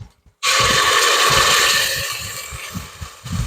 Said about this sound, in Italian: andate giù di passata di pomodoro